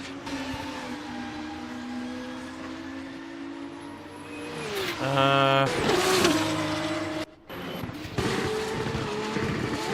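Formula race cars crashing in a racing game at Monza: engines whine, then a burst of loud grinding impacts and skids hits halfway through, a sudden cut, and more scraping noise after.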